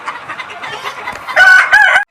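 Inside a chicken coop, a rooster crows loudly and close, a long strained call rising near the end, with softer clucking and hen chatter underneath before it.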